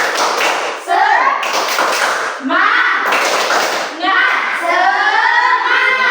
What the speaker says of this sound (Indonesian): Ice breaking, tepuk semangat.